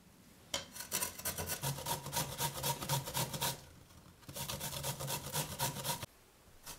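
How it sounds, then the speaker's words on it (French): A carrot is rubbed hard against a grater in two long runs of fast, rhythmic rasping strokes, close and loud, separated by a brief pause, with nobody talking. "Je râpe une carotte."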